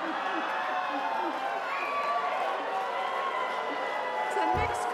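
A mixed audience at an award ceremony reacts with a dense, continuous wash of cheering, whoops and scattered calls, holding steady at a moderate level throughout.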